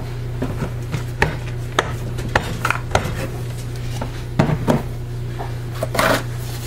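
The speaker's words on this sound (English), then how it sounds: "let's get my lid back on my container" A lid pressed back onto a container of soap-making oils and cocoa butter, with several sharp plastic clicks and knocks at close range over a faint steady hum.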